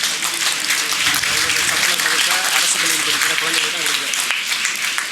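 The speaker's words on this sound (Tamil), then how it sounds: "எல்லாரும் எந்திரிச்சுன்னு ஒரு தடவை கைதட்டணும்" Audience applause at a Tamil public speaking event, dense sustained clapping from a large crowd, loud and steady throughout with a murmur of voices underneath.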